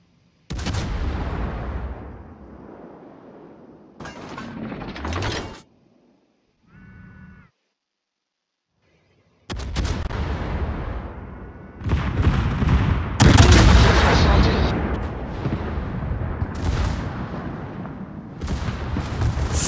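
Heavy naval gun salvos in a World of Warships-style game, booming in separated bursts with gaps between, the later volleys louder and longer with rumbling tails.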